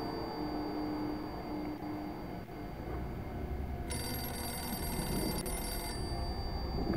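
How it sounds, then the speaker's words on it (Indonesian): A telephone rings in the horror video game Forbidden Siren 2, a bright trilling bell burst lasting about two seconds, heard loudly over a dense, droning game ambience. "Telepon."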